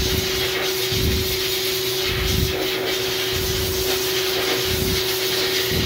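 Compressed air blasting mud dauber nests out of an old lead mold, a loud continuous hissing rush with a steady hum underneath and gritty bursts as debris breaks loose, close up and without speech.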